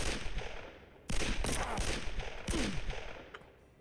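Gunfire in a WW2 bunker simulator video game, a few sharp shots with ringing tails over a steady background of game ambience, fairly loud and close.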